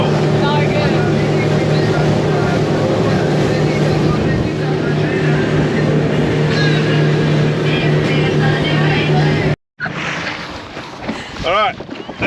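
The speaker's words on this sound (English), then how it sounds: "the Coral Explorer is a new boat." The Coral Explorer, a new glass bottom boat, motors along with a steady engine drone under heavy wind buffeting, then a brief cut and fainter rushing water and wind noise.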